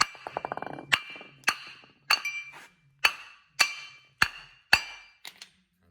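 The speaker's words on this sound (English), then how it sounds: "You can do that by hammering around the disc." A hammer striking around a front brake disc on a 2017 Mk 7/8 Ford Transit to free it from the hub: a quick run of light taps, then about eight loud, ringing metallic blows spaced roughly half a second apart, close and alone.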